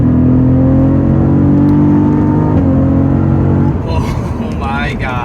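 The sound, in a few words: Cadillac CT4-V Blackwing accelerating hard in drive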